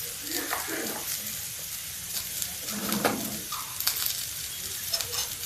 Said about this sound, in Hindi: देखिए सब्जी मेरी पक रही है